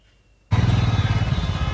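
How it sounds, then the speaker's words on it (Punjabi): A motorcycle engine starts abruptly after near silence and idles with a steady, throbbing putter close by in a motorcycle parking area. "ਇੱਧਰ ਹੁਣ ਲੱਗੇ ਆ ਮੋਟਰਸਾਈਕਲ ਪਾਰਕ ਕਰਨ"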